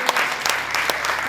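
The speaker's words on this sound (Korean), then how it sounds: "다시 한번 박수 부탁드립니다." A short burst of crowd applause at a senior citizens' awards ceremony, lively and close, with sharp individual claps standing out.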